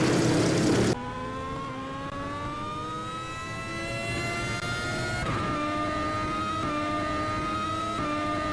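A sports car in Kerbal Space Program, fitted with a welded metal tow rod, revs while towing a massive load, its engine note climbing steadily and shifting pitch over several seconds after a loud burst of noise at the start.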